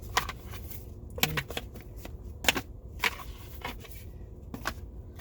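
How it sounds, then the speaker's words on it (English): A deck of Magical Spell Cards used for tarot-style readings is shuffled by hand, close and crisp, with quick riffling bursts and soft taps repeating in an irregular rhythm. "And we're just going to shuffle and pull some cards, okay?"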